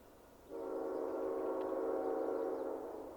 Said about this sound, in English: 305 got their train back together and are now blown for the Rue Landry crossing just to our east.